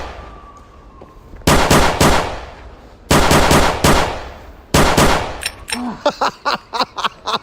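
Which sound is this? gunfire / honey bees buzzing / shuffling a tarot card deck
gunfire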